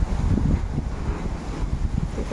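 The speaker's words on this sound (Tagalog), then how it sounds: "Sobrang lakas ng hangin dito." Strong, gusty wind buffets the microphone outdoors in Al Ahmadi, Kuwait, a loud continuous low roar with surging gusts and no talk.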